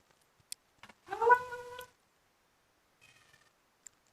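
A cat gives a single clear, close meow lasting under a second in a quiet rural Thai setting, followed by a faint softer sound and a few small clicks.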